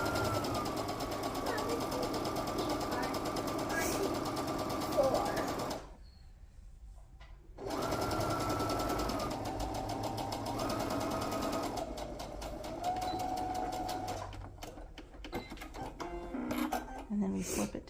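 A sewing machine stitches a quarter-inch seam on a Santa stocking, running in close, rapid mechanical bursts with a brief silent pause partway through and a choppier, stuttering run toward the end.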